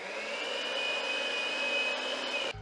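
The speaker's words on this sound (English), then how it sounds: "Now we take our time and turn our mixer on and bring all this together." An electric mixer whirs steadily at a constant high pitch while blending cheesecake batter with vanilla, a smooth unbroken hum that cuts off abruptly at the end.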